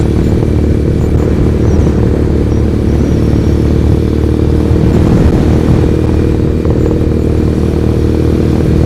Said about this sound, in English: We're on my 2009 Triumph Bonneville Custom